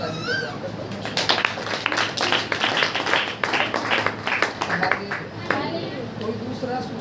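A congregation claps hands during a Hindi-language Christian Saturday prayer meeting, with a steady patter of many palms beating under ongoing speech and short calls.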